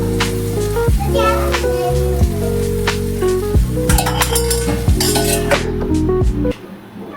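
Samosa masala being mixed with ginger garlic paste in a home kitchen: metal spoon clinks and scrapes against a pot, with loud clattering and people talking over it throughout.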